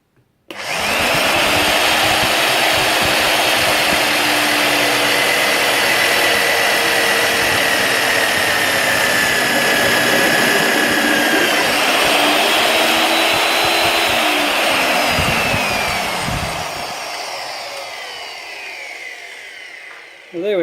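A magnetic drill bores through clamped metal, a loud, sustained motor whine with a grinding cutting tone that holds steady for about fifteen seconds, shifts pitch as the bit bites, then winds down and stops.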